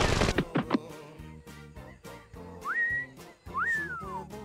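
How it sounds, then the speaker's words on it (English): A character whistling in the video game Skullmonkeys, two rising and falling whistled phrases over a bouncy game music background, preceded by a few sharp thumps. "Why are you whistling, Klaymen?"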